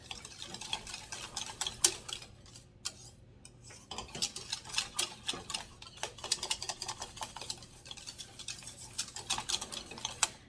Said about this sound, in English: dump that back in there. Whisk it in.